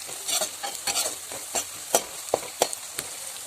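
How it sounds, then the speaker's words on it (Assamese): Garlic and onion sizzle in oil while a spatula stirs them in sharp, irregular scrapes and taps, each stroke standing clearly above the steady frying hiss. "এতিয়া অলপ ৰঙচুৱা হোৱালৈকে এইদৰে ভাজি থাকিব লাগিব"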